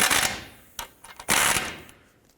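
A 19mm ratchet snugs up the ball joint nuts on a 2001-2007 Toyota Highlander, giving several quick bursts of close, rapid clicking separated by short pauses.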